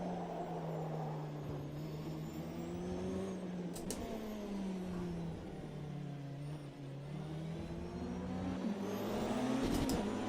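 A race car pulls out of the pit lane in Automobilista 2, its engine droning steadily with pitch rising and falling through gear changes, heard from outside at moderate level with faint ticks and whooshes.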